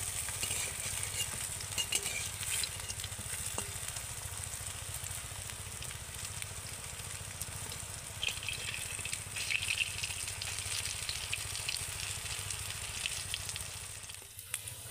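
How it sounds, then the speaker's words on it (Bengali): Stuffed taro leaf pakoras fry until crisp in hot oil, giving off a steady, fairly quiet sizzle and crackle that lasts throughout with no voices. "আর এগুলোকে একদম মুচমুচে করে ভেজে নিতে হবে।"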